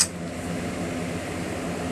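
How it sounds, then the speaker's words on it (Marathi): A mixer grinder whirs steadily while grinding peanuts, with their skins still on, and almonds, a dense continuous hum from start to finish with no talking. "आता हे मी मिक्सरला लावून घेते"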